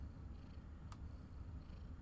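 Faint, low, steady rumbling purr of a cat sitting close by, continuous and even throughout with a soft click near the middle.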